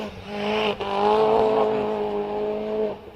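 A Mini John Cooper GP races up the Prescott hillclimb, its engine note holding a loud, steady, tonal drone close by, with a brief dip as it changes gear early on before fading slightly at the end.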